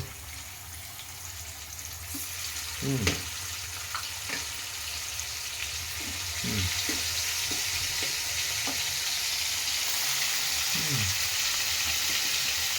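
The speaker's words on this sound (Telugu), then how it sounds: "మంచి పీస్లన్నీ ఫ్రై చేస్తాం" Fish pieces fry in a generous amount of hot oil, giving a continuous bright sizzling hiss that grows louder midway. Occasional utensil clatter and brief, faint voices come through over it.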